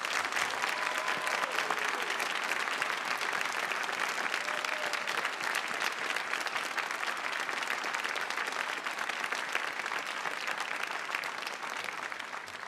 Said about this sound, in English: please give all today's awardees a big round of applause